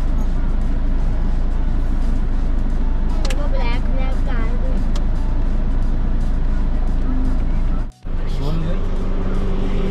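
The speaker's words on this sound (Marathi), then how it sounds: "ते बघा CRPFची गाडी आली आणखी" Army and CRPF vehicles roll past on the road between Katra and Srinagar, a loud, continuous engine and tyre rumble close by with a brief horn, while people talk over it.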